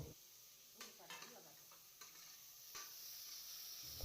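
Ginger garlic paste being stirred in a hot pan for tomato rice, with steady sizzling frying and a few sharp spoon scrapes against the pan, close by and with no talking.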